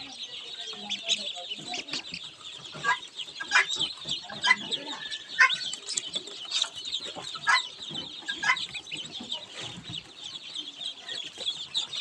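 A group of Belgian ducklings, white chicks, giving continuous high peeping and chirping calls at close range, steady and overlapping throughout.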